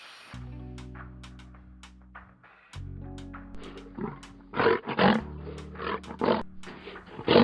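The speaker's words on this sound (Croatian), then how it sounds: "Lav." A cartoon lion roars loudly and close by, deep rumbling groans swelling into a run of harsh, forceful roars, with no talking.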